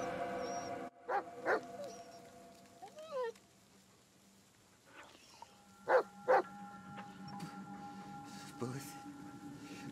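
A dog in the Blair Witch video game gives a few sharp barks and soft whimpers, spaced out with pauses, over quiet ambient game sound, with someone speaking at moments.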